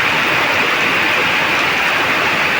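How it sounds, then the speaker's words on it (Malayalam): Heavy rain pours down in a dense, unbroken hiss, loud and close, with no other sounds standing out. "മഴ ശക്തമായ മഴയാണ്"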